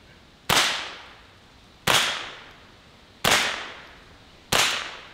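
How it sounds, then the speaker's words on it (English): Four sharp .22 Long Rifle shots from a Ruger 10/22 rifle fired at test walls, evenly spaced about 1.3 seconds apart, each a loud crack with a short decaying tail, no talking. "So we're gonna start with the 22 long rifle out of the Ruger 1022 and see what happens."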